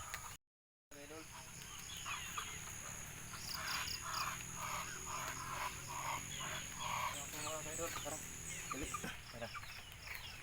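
Repeated clucking from a group of chickens being fed alongside ducks, steady and fairly close, with an insect-like drone and light background noise throughout.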